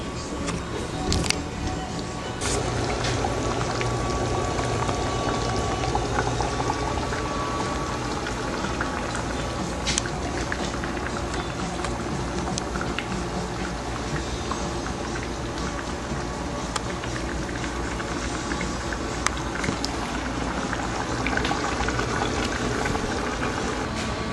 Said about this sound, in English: Once your tomato sauce reaches a boiling point, you can turn it off.